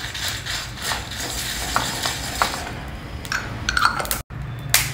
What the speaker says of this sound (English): See that the chilies are well roasted and become nice and crisp